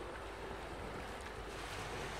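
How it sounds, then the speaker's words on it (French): Ocean waves wash onto a shore in a steady, soft, continuous hiss and roar, with no distinct crashes standing out and no voices. "Vibrez au rythme du bruit des vagues."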